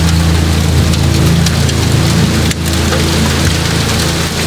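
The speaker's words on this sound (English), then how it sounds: "Rain was already pouring across the kitchen floor." Heavy rain pours through a broken kitchen window onto the floor in a storm, a dense steady hiss and patter close by with a low rumble beneath and a brief dip midway.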